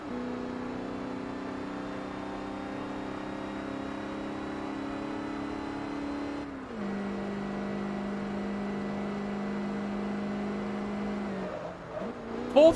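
An SUV engine drones steadily in Forza Motorsport 3, holding a long, even tone at high speed before shifting down to a lower pitch partway through and wavering near the end.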